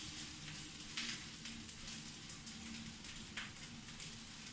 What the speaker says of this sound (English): And fry it.